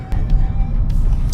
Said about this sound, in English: This is a rental. It's a Nissan Note Hybrid.